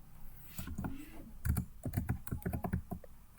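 Computer keyboard being typed on while entering MATLAB code, a quick irregular run of close, crisp key clicks with a short pause before faster tapping.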